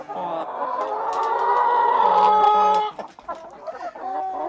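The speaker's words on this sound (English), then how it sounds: "after I get out of this noisy chicken coop" Several chickens cluck and squawk loudly at close range inside a coop in a busy, overlapping chorus, with one drawn-out call standing out before the clucking continues.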